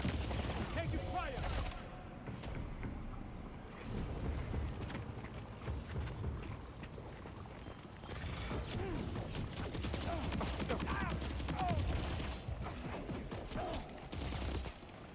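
Bursts of gunfire in the game Death Stranding 2, volleys of rapid shots and mechanical clatter coming and going over about fifteen seconds, with voices in between.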